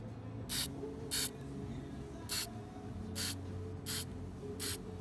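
Super glue accelerator is sprayed onto a cracked ebony repair in six short, evenly spaced hissing bursts, close and clear over a low workshop hum.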